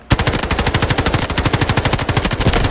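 A Ci19 assault rifle in Delta Force fires one rapid, sustained automatic burst, loud and close, with evenly spaced rounds lasting a few seconds.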